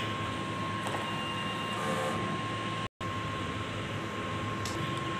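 A DTF printer runs a print head cleaning cycle, a steady mechanical hum with a constant whine and faint clicks, interrupted by a brief cut of silence midway.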